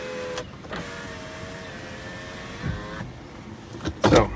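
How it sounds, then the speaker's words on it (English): The powered rear window of a 2008 Toyota 4Runner Limited lowering, a steady electric motor whine lasting a couple of seconds, close and clear, bracketed by clicks and a few thumps. "Does have the rear window does roll down."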